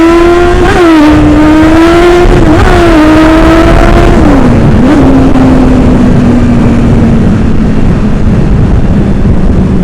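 Kawasaki ZX9R motorcycle engine revving hard and loud up close, a rising and falling howl with quick blips of throttle before settling into a long, steady drone that slowly drops in pitch.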